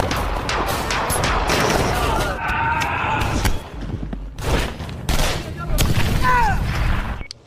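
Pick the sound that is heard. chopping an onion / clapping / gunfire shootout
gunfire shootout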